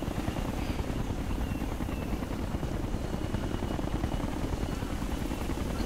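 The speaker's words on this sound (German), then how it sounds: "Kommt ein Helikopter." A helicopter in the video game Ghost Recon Future Soldier thrums steadily and loudly throughout, a continuous chopping rotor roar with no talk over it.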